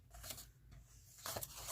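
Scissors snip through paper for a Christmas tag journal, a couple of faint, crisp cutting strokes close by against a quiet low hum.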